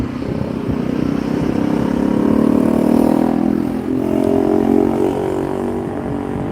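A Weymouth Omni City bus on the CR8 pulling away, its engine revving loud and close in a steady drone that rises and shifts pitch as it moves off, with no talk.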